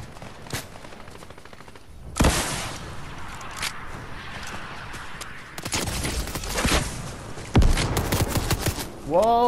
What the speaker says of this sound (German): wird scharf geschossen